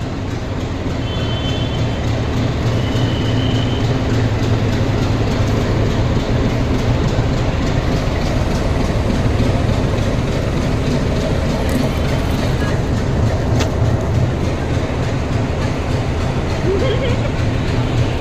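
A Maa Tara Express train stands at a Sealdah station platform, with a loud, continuous rumble of engine and station noise over the whole stretch, a few faint tones and clanks, and people talking in the busy surroundings.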